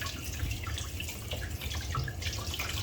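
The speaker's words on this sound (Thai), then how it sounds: "ทำการล้างคอหมูย่างก่อนนะครับ" Pork neck for grilling is rinsed under a running kitchen tap, a steady broadband rush of water with faint splashing and handling, close and continuous throughout.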